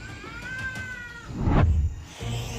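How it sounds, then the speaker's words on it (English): A small cat squeals and yowls in pain while a Komodo dragon attacks it, giving drawn-out, strained cries with a louder rough outburst in the middle, heard close and alone. "The little cat squealed terribly and in pain"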